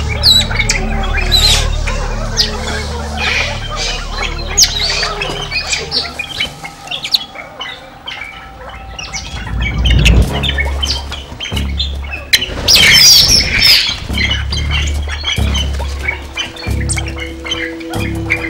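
Birds from a former royal palace, now in the care of Shivapuri Nagarjun National Park staff, squawk loudly and repeatedly, with scattered chirps and a burst of flapping wings partway through, close and busy with no talk.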